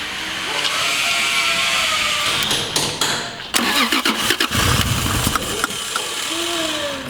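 A Toyota Supra 2JZGE with individual throttle bodies cranks repeatedly while trying to start, the starter whirring steadily with a few rough sputters and coughs partway through, close and fairly loud.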